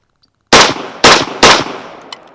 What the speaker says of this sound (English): 3 shots again.